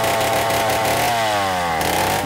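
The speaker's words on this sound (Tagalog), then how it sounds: "Nanggagaling sa tunog ng chainsaw" A chainsaw engine runs steadily and loud, its pitch revving up and sliding down as it works, with no voices.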